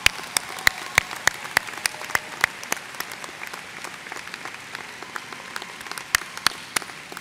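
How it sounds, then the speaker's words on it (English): Sparse, scattered clapping from a commencement crowd at a college ceremony, with individual sharp claps standing out over a thin, distant wash of applause. "Please join me as we applaud their support of and dedication to the success of our students."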